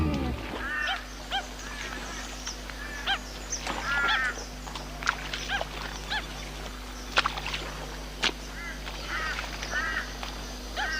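A wading bird seized by a crocodile in a freshwater river lagoon gives repeated harsh, honking distress calls in short bursts over a steady low background hum, fairly close and moderately loud.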